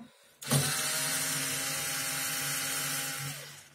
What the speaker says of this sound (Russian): Один винт уже открутил.